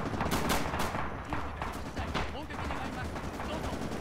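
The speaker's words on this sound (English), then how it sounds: "there are some suppression effects from the heavy machine guns here" Heavy machine guns rattle in sustained bursts amid a dense Pacific-front battle in Red Orchestra 2: Rising Storm, with overlapping rapid gunfire and distant rumble continuing throughout.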